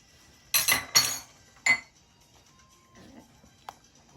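A metal spoon clinks against a pot while turmeric is stirred into lentil soup, with three quick bright clinks close together followed by a fainter tap and soft stirring scrapes.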